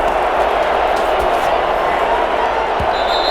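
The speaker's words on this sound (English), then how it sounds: "The crowd getting into it as we come up on a big 3rd down." A stadium crowd in the Madden NFL 21 football game makes a steady, loud roar building before a big third down, with commentary voices talking over it and a couple of brief thumps.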